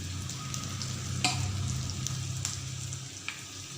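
Chili slices frying with potatoes in a pan give a steady, close sizzle with a few sharp spatula clicks throughout.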